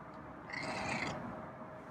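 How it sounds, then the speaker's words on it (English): A feral cat gives one short raspy meow at close range, a brief harsh call rising out of a quiet, low background rumble. "Oh, you got a raspy meow again."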